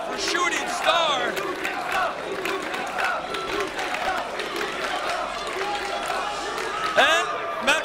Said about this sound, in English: The crowd chanting for Shooting Star.